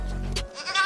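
A goat born with only two front legs bleats once at close range, a short wavering cry that follows a brief low rumble.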